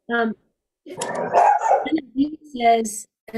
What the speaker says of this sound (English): That was my dog started barking